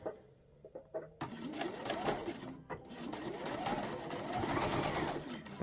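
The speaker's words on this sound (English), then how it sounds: "So we'll just go back to the machine and sew a 1/4 of an inch seam allowance." A sewing machine runs steadily, stitching a quarter-inch seam, with a brief pause and restart early on, then a continuous whirring run to the end, fairly close and clear.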